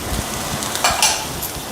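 Steady sizzling of cabbage and finely chopped green chillies sautéing in a pan for vegetable fried rice, with soft stirring scrapes and a few brief clinks of utensils.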